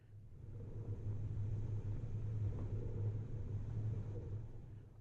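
A low, continuous rumble of traffic on distant Highway 95 near Quartzsite, heard from a desert campsite, swelling gently and then fading slightly, with no voices.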